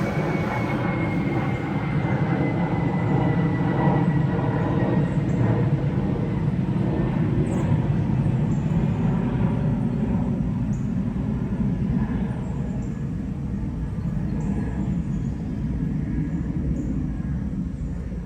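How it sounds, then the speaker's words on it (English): Airplane passing overhead, a continuous low broadband rumble that stays loud and steady for most of the stretch, then eases slightly toward the end, with no voices. "Let me let that plane pass."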